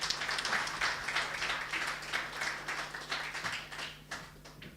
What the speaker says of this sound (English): Please, a round of applause again for our CEO,